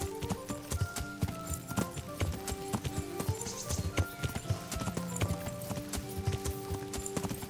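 Horse hooves clip-clopping steadily up a steep hill in the medieval game Kingdom Come: Deliverance, a close rhythmic series of thuds layered over game music, with an occasional faint whinny.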